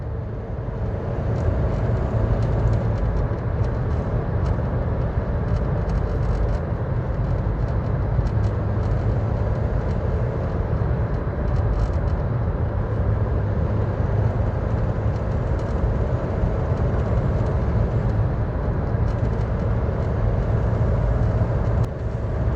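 A front-wheel-drive car accelerates with a steering-wheel shake and a pull to the right, giving a steady, loud engine and road drone with low rumble throughout and no talk.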